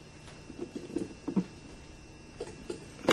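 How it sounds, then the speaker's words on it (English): Rain patters in faint, irregular taps and drips, scattered and quiet, with no voices. "It's raining."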